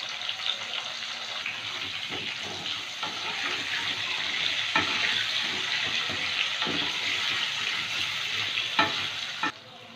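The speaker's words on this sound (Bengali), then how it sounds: "আলুগুলো ভেজে নেব।" Potatoes fry in hot mustard oil in a wok with a steady, bright sizzle and occasional stirring knocks, close and loud. A lid clatters near the end.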